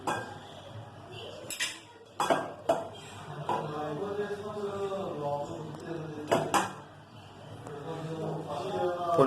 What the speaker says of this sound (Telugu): దీంట్లో ఇప్పుడు రైస్ని ఈక్వల్గా కలుపుకోండి